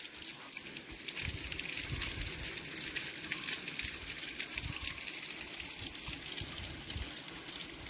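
Water pours steadily onto a Shiva lingam at the Bhimashankar temple, a continuous gushing splash, close and fairly loud, with no talk throughout.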